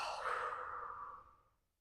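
A single deep exhale during a hip mobility exercise, a soft breathy rush of air close to the microphone that fades out over about a second and a half.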